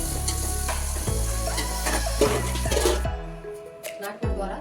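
Tomatoes, onions, chillies and curry leaves frying in a pan, a continuous sizzle broken by the repeated scrapes and knocks of stirring, with a voice talking at times beneath it.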